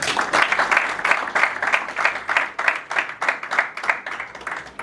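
Wedding ceremony guests break into applause, a dense, lively round of clapping that keeps up steadily throughout with bursts of rhythmic claps.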